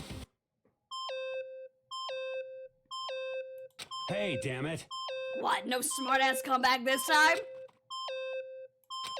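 Repeated electronic beeping from a device in the video game Danganronpa sounds in regular stepped bursts of falling tones, about once a second. Excited character voices break in halfway through before the beeps resume.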